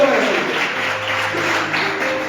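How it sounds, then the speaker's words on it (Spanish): Congregation clapping in a church service, a steady broadband wash of applause with a faint sustained tone underneath, continuous for the whole short stretch. "¿Cuántos dan un fuerte aplauso a la santa y divina palabra de Dios?"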